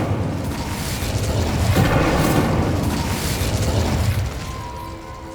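The Incendio fire spell is cast in Hogwarts Legacy, giving a loud, sustained roaring whoosh of flame with a deep rumble that swells and then fades slightly near the end, with no talking.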